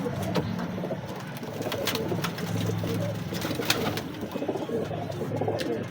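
A pair of pigeons, a male and a female, coo steadily at close range, their low rounded calls repeating throughout amid other faint bird sounds.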